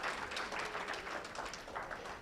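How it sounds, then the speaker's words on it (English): Applause from a town meeting audience for the Superintendent of Public Works, a soft steady patter of clapping from a small crowd lasting a couple of seconds. "Give him a round of applause."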